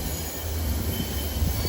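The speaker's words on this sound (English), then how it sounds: "here comes a train coming from Chestnut Hill" An electric commuter train on the old Pennsylvania Railroad Chestnut Hill branch in Philadelphia, electrified since 1918, passing close by with a steady low rumble and rolling wheel noise across the whole moment.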